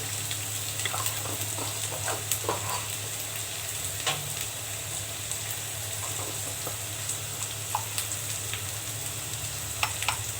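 Dry fish frying in a pan with ginger, garlic and cumin powder, a soft, steady sizzle with occasional light scrapes and pops of stirring, close but fairly quiet, no talking.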